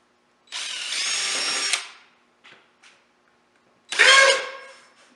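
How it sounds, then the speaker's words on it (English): A power drill boring pilot holes in the front fairing of a 2016 Jeep Trailhawk for a winch mount, two high whining bursts with brief small clicks between them, close and loud against quiet. "drill some pilot holes"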